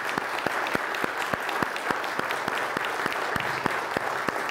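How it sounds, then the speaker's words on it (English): An audience applauds veterans in a continuous wash of clapping. A few sharp, regular claps stand out up close over the crowd's applause, and no one speaks. "please join me in giving them a round of applause"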